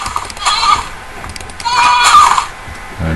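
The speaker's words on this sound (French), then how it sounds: "autour de la petite chèvre" A goat bleats in the Minecraft video game: two drawn-out, wavering bleats about a second apart, loud and close, with a voice faintly present around them.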